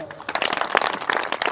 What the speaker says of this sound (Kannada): ಹೊಡೆರಿ ಚಪ್ಪಾಳೆ.